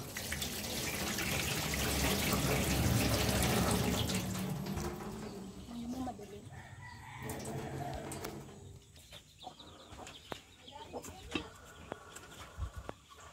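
Tomatoes and an onion are rinsed under a running tap, the water flowing loudly and close for about five seconds before it stops. Softer handling sounds follow, with birds and chickens faintly in the background.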